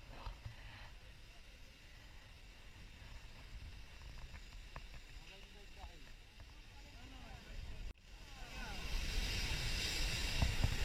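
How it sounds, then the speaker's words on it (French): Sea waves crash against harbour breakwaters, a broad wind-blown wash of surf and spray that swells louder toward the end, with a boat and gusting wind noise mixed in. "spectacle des vagues se brisant sur les digues"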